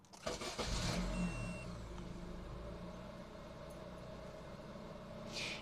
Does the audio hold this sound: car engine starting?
yes